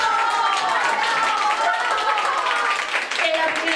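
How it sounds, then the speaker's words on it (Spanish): Theatre audience applauding steadily throughout a stage performance, a dense, even wash of clapping with voices mixed in. "¡Que no me caiga ese aplauso!"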